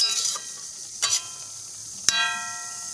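Drumstick flowers being mixed into a sizzling vegetable dish in a pan: a steady hiss of frying with three short spoon scrapes and clinks against the metal, the last one a bright, sharp clang.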